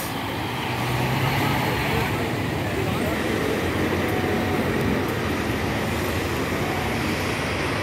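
A Gontijo bus pulls into a busy bus station during Carnival 2024, a steady, loud rumble of engine and road noise with terminal bustle and faint voices layered over it throughout.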